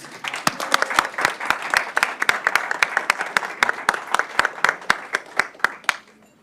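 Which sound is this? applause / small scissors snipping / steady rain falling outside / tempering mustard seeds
applause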